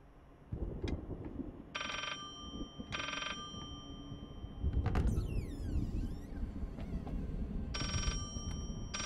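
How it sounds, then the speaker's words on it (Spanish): A telephone rings in the horror video game Layers of Fear (2016). Four loud, evenly spaced bursts of an electronic bell ring over a rumbling, creaking ambience with a sliding metallic swell in the middle. "Ah, vaya, está aquí el teléfono."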